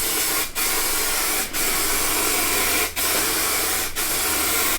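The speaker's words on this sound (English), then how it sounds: "we're ready to put the first full coat of primer on." Primer spray gun coating the plastics of a 1982 Honda XL 250R during restoration: loud, close, steady hissing bursts, four passes separated by brief pauses, with no talk.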